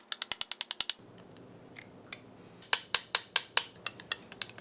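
A scored stained glass crescent, loose in the middle, wiggles against the sheet as it starts breaking free, giving bursts of rapid, crisp little glassy clicks and ticks, close and fairly quiet, with a lull between them.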